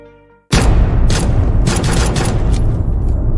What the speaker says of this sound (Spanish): 6 disparos a quemarropa y el vehículo siguió rodando hasta estrellarse contra un poste